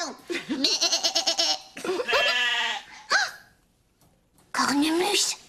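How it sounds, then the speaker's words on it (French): A goat bleats several times in wavering, pulsing cries, with short gaps between bursts and a final long bleat, near and fairly loud. "Ce n'est pas Zonzon qui a bêlé. C'est Biquette."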